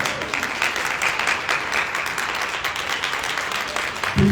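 A room of women stands and applauds at a Women's History Month luncheon, dense steady clapping throughout with a faint voice near the end.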